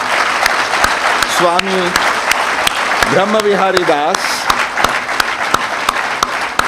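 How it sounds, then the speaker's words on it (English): Audience applause welcoming a Hindu swami on stage at a talk on positive attitude: steady clapping throughout, with someone speaking over the start and middle of it. "Let us welcome with a very warm round of applause"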